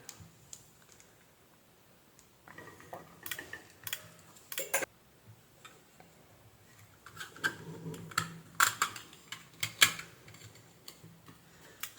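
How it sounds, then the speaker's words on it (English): A faulty capacitor in an SMPS power supply whose MOV varistor has shorted gives off sparse, irregular clicks and ticks, some bunched into quick runs, over a quiet background. "clicking due to this capacitor, it is not allowing to maintain the voltage on DC rail of standby section"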